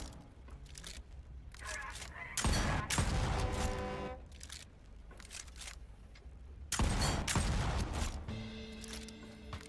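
Bursts of gunfire in the video game Volcanoids, two heavy dense volleys rising over a constant loud mechanical background, with voices under the shooting.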